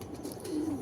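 A pigeon cooing close by, a single short low murmur rising and falling, alone without voices.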